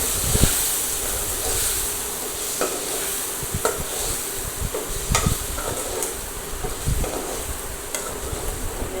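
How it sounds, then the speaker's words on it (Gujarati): A spoon stirs turmeric, coriander-cumin powder and red chili powder into brinjal curry in a pan, with repeated scraping strokes at an uneven rhythm over a soft, steady sizzle. "ધાણા જીરું પાવડર, લાલ મરચું પાવડર જરૂર પ્રમાણે. એને પણ આપણે બરાબર મિક્સ કરી લઈશું."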